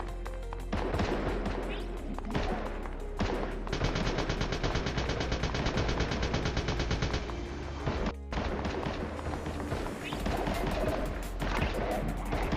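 Rapid gunfire crackles in bursts during a Fortnite match played on mobile, loud and sustained with brief pauses, while a player talks over it.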